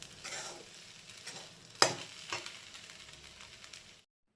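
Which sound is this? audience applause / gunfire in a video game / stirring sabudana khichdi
stirring sabudana khichdi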